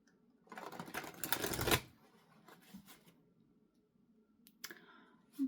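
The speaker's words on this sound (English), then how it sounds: "Who knew shuffling tarot cards was so dangerous?" Tarot cards are shuffled by hand in a burst of dense, crisp riffling. A few soft clicks and taps follow, then a brief flutter of cards near the end.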